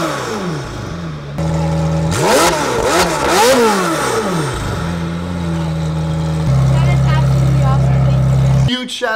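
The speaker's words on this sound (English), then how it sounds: "I wanted to give him the experience of revving the heck out of the 720s" A McLaren 720S supercar engine revs hard in loud repeated bursts, its pitch sweeping up and down between throttle blips, then settles into a steady high idle drone near the microphone.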